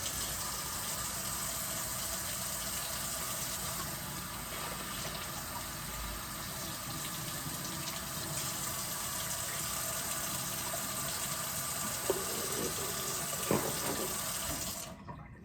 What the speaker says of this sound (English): Unfortunately, my spigot's really large, so I can't get a large volume of water into it